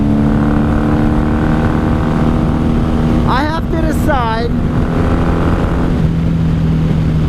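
A 1994 Honda Magna 750 VF750C V4 cruiser rides along with a steady, close engine drone that holds an even pitch throughout, while someone briefly speaks over it.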